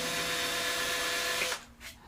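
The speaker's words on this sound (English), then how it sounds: "I'm actually going to drill these one more time because I didn't get a very good drill" A power drill whines steadily while boring holes in a music box under construction, close and continuous, then cuts off abruptly and leaves only faint handling noise.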